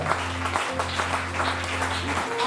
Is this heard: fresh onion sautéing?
no